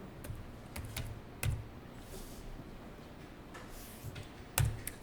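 Quiet typing on a computer keyboard, with scattered single keystrokes and a few heavier key presses spaced irregularly over several seconds, no voices.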